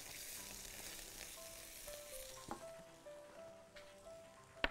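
Garlic and fresh ginger sizzle in a hot pan, a soft, steady hiss with a few light clinks of a utensil against the pan and a sharp tap at the end, quiet and close with no voices.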